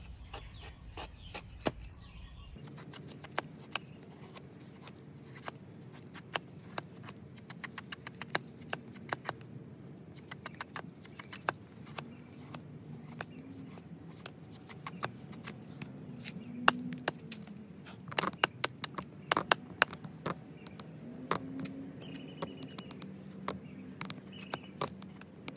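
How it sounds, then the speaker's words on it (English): A knife shaves and trims a split piece of wood to prepare fire-starting material, giving repeated dry scraping and rasping strokes with sharp little clicks of wood, close and fairly quiet, without talk. "You shave off the inside of the wood."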